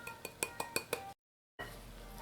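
A spoon clinks rhythmically against a bowl while fruit cake batter is mixed for a Trinidadian black rum cake, six quick close taps, then a brief silence before a faint steady background returns.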